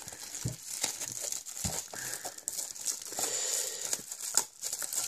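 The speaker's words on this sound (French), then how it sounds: "j'ai du mal à retirer le plastique" Plastic wrapping crinkles and crackles as it is peeled off Pokémon card packs, a close, continuous rustle with sharper tearing snaps throughout.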